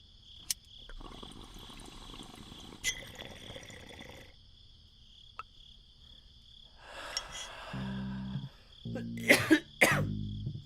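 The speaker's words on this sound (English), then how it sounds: "stop smoking if you have the cough" A person coughs in sharp, isolated bursts spread across a quiet scene with a faint insect hum behind, ending in a cluster of heavier, raspier coughs and throat noise.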